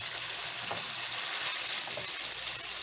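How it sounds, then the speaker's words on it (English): Ground meat for a chopped cheese sandwich sizzles steadily in a hot pan while a spatula breaks it up, giving a constant close frying hiss with a few soft scraping taps and no talk. "take your spatula and break your meat up just like this"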